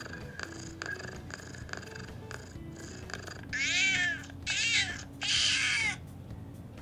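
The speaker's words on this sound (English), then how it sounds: "you can actually hear Morgana purr through the controller's speaker." Purring from the cat Morgana in Persona 5 Royal, played through a PS4 controller speaker: three loud, buzzy bursts in the second half, following quieter, evenly spaced pulses.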